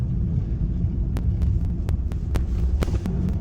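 A van's engine revs and accelerates with a steady low throbbing hum, broken by sharp intermittent clicks and ticks from a failing pulley bearing skipping, loud and close, with no talking.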